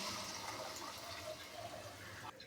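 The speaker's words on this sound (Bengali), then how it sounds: "এবার দিয়ে দেবো গরম জল" Hot water gushes and splashes steadily into a pan of sizzling fish curry masala and tails off near the end. No one speaks.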